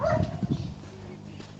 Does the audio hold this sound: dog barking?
yes